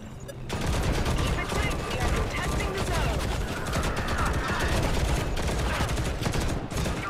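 Sustained automatic gunfire from the shooter game Modern Combat Versus, dense rapid bursts running nearly continuously and loud from start to finish.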